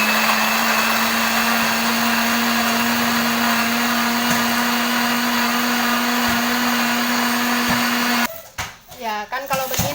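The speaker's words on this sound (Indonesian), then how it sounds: "Dan kita mau blender teman-teman." An electric blender wrapped in plastic runs with a loud, steady whine for about eight seconds, then cuts off, leaving a brief rattle and a quiet kitchen.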